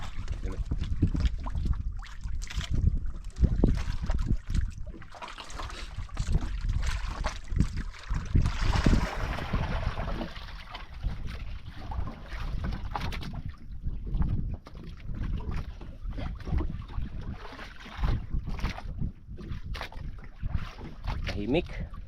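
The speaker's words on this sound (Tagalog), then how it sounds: "Ikot yung bangka." A fishing boat turning on open water, a steady low rumble with gusts of wind buffeting the microphone throughout.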